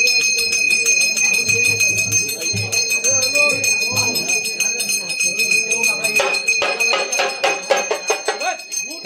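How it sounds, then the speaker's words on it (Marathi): Temple bell struck repeatedly at a Shimga palanquin festival in Anjarle village, Konkan, ringing brightly in quick strokes that grow denser toward the end, with someone talking over the sound. "तर बघतोय आपल्या पाटलांनी घंटी वाजवले आणि"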